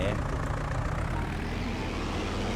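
Tractor engine in Farming Simulator 19, a steady low rumble running throughout at moderate loudness with no change in pace.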